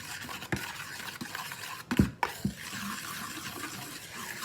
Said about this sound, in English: I just stir it around a lot, and I think that's just as good.